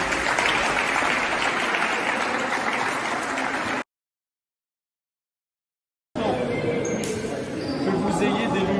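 Broad, dense crowd applause fills the first few seconds, then cuts to silence before the clapping and chatter resume, with some scattered higher sounds.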